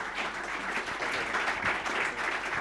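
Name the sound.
round of applause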